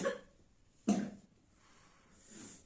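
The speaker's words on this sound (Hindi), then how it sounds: "बाबू को खांसी भी हो गई है कस के" A baby gives short, sharp coughs in two separate bursts with quiet breathing between them, close and soft in a quiet room.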